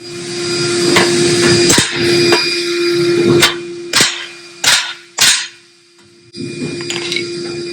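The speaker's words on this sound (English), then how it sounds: "Now we can dent that header a little bit." A hammer dents the steel exhaust header of a 1956 Chevy for steering box clearance: about half a dozen loud, sharp metallic blows spaced irregularly, ringing over a steady background hum, with no talking.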